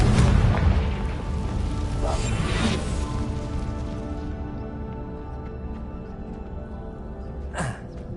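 A Confringo fire spell is cast in Hogwarts Legacy, giving a loud booming blast and whoosh over a dense game soundtrack, with a second sharp burst near the end.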